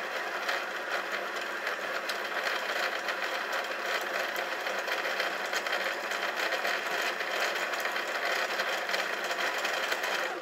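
A domestic sewing machine runs continuously while stitching a quilt block, a steady, fairly loud whirring rattle with a fast even mechanical chatter and no pauses.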